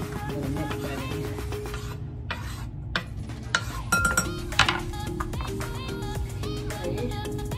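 Garlic gets worked into a ground turkey meatball mixture in a bowl, with soft squelching stirs, scattered light clinks of utensil against the bowl, and a steady low kitchen hum underneath.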